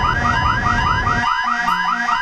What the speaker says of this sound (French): coupez-moi cette alarme